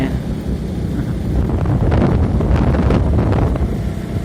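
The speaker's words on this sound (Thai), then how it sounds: "ลมหนาวพัดมาอีกแล้ว" A cold wind gusts across an open field and buffets the microphone in a loud, continuous roar that swells in the middle.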